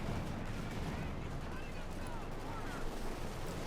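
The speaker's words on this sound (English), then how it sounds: "All 3 squads, the bazookas and the flamethrowers, overwhelming Luciano's eastern forces in a tide of fire and fury" Bazookas and flamethrowers in a Company of Heroes 2 battle make a faint, steady rumble of distant gunfire and blasts.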